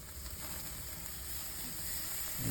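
Skirt steak sizzling in a hot pan, a faint continuous hiss and crackle of frying that swells slightly louder toward the end.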